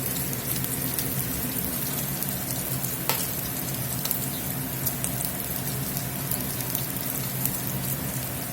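Beef sizzles briskly in a pan along with Sazon and Southwest steak seasoning as they toast, a dense, close crackle that holds steady throughout with a faint scrape or two.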